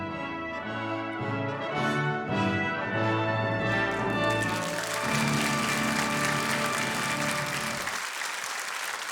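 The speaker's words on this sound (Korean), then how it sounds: "이 박수는 바로 유엔 참전 용사들을 위한 박수이기도 합니다." An audience applauds UN veterans of the Korean War at a 60th-anniversary commemoration event. Music plays at first, then dense, sustained clapping rises over it for several seconds before fading away.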